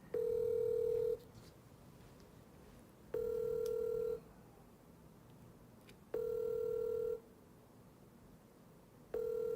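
An outgoing call to a pastor rings back in a repeating pattern: three long, steady electronic tones about a second each, separated by two-second gaps, with a fourth tone starting at the end, fairly quiet over faint background hiss.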